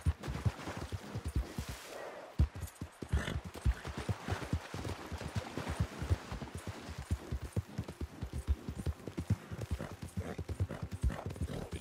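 Steady clip-clop of horse hooves in Red Dead Redemption 2 Online, a fast regular rhythm of close, sharp hoofbeats throughout, with a brief whinny near the start.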